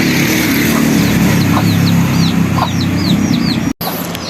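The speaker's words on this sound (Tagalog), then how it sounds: "4 na sisiw yan." Chicks peep in quick high chirps while chickens cluck on a farm, the calls scattered over a steady outdoor background hum.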